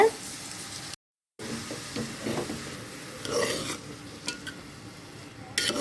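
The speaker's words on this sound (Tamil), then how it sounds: "இந்த நெய்லேயே நல்லா ஒரு 5 நிமிஷம் வதக்கிக்கலாங்க" Half a kilo of grated carrot sautéing in ghee for carrot halwa, giving a soft steady sizzle with scraping stirring strokes, moderately close, with a brief silent gap early on.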